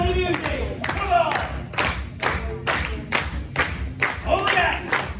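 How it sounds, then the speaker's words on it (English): A crowd at a comedy hypnotist show on the Grand Pier in Weston-super-Mare claps in unison, about eight sharp, evenly spaced group claps with cheering and shouting voices mixed between them. "Clap your hands"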